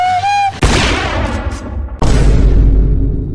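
Sniper rifle fire in GTA V comes as two loud, sharp cracks about a second and a half apart, each with a booming tail, after a brief tonal game sound at the start.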